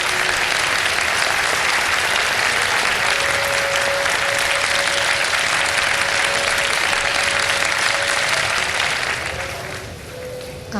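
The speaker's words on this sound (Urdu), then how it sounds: "ایک دفعہ آپ لوگ کھڑے ہو کے تالیاں بجائیں" A standing studio audience on a live Ramadan iftar television show claps in sustained, dense applause that stays loud and even, tapering slightly near the end.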